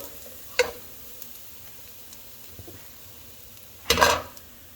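Garlic and onions sizzle in a pan, with two distinct bursts of frying and stirring noise standing out against a quieter steady background crackle.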